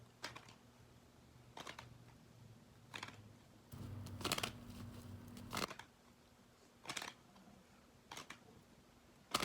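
Tarot cards are handled and shuffled in a quick, quiet burst of crisp riffles and flicks, each a short papery flurry, with a faint low hum underneath and no talking.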